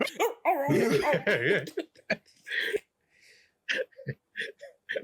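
A man imitates a dog barking in a wrestling context, giving a string of rough, growling bark-like vocal bursts with uneven pauses between them.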